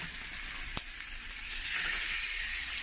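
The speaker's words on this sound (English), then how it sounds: "Hot oil." A steak sizzles in hot oil in a pan on fairly high heat, making a steady broadband hiss with one sharp crackle near the start and the sizzle swelling slightly louder toward the end.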